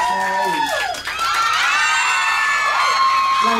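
A concert audience at a mini concert aboard a cruise ship screams and cheers in a loud, continuous wall of shrill, high-pitched voices that barely dips before surging again.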